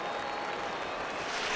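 A stadium crowd in the baseball video game MLB The Show 19 roars and applauds at a long foul ball, a faint steady wash of cheering and clapping.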